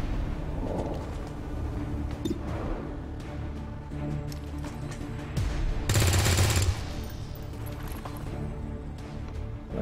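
Gunfire in the turn-based strategy game XCOM 2. A dense, rumbling layer of game sound and music leads into a loud burst of shots with a bright crack, all without talking.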